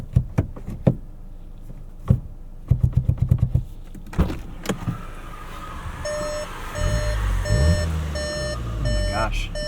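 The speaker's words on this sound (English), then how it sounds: "that's a Volkswagen noise." A high-pitched whine from a 2025 Volkswagen Jetta GLI with a manual gearbox, a steady beep-like tone pulsing above engine rumble in the second half, after a stretch of clicks and knocks.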